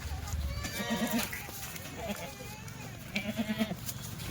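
A Kathiawari goat bleats in short wavering bursts, twice with a pause between, while a person talks nearby over faint background noise.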